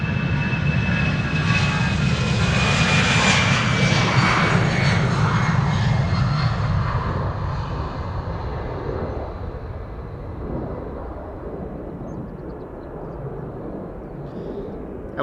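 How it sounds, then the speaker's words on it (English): An EasyJet Airbus A319 narrow-body takes off at Amsterdam Schiphol, a loud, close jet roar with a thin rising whine that swells and then slowly fades as the aircraft pulls away. "we have some narrow bodies taking off over here. This is an A319 EasyJet to Bristol"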